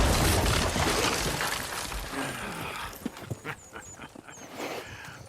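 Horses clip-clop in the video game Red Dead Redemption 2, a few distinct hoof knocks emerging near the end after a wash of broad noise, fairly faint with no talk over them.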